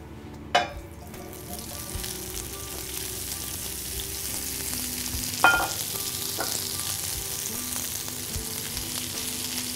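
Cauliflower sizzles steadily in hot olive oil in a medium-hot pan, a constant crackling hiss with a couple of sharper clinks along the way.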